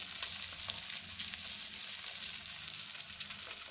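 Fish fries in a pan of hot oil, giving a close, continuous crackling sizzle with scattered pops throughout, steady in loudness, with no talking.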